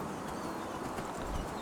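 A donkey gallops in the video game Enderal, its hooves making quick rhythmic clip-clops over a steady background wash.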